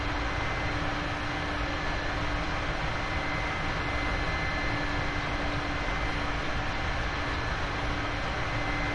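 A Mi-8 helicopter in the DCS flight simulator drones in a steady hover and slow flight, with a continuous engine and rotor hum holding a constant tone and no voices.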